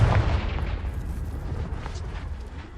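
A Confringo fire blast spell from the Hogwarts Legacy video game bursts with a deep, booming low-end thud at the start, then trails into a rumbling, crackling wash that slowly fades, with no voices.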